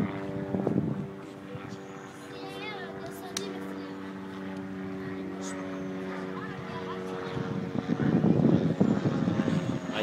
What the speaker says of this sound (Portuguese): no fundo um helicóptero fazendo barulho